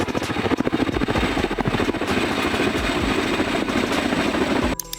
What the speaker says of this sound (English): Military transport helicopter.